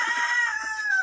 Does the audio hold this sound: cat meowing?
no